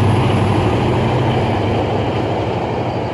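A steady, loud rumble with broadband roar throughout, like a train rolling past close by, continuous for the whole few seconds with no voices.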